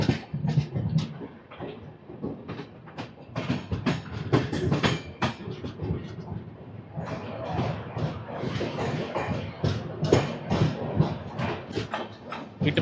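A train runs past Royapuram railway station in Chennai, a steady rolling rumble with repeated clattering wheel beats over the rails, loud and continuous with no talk.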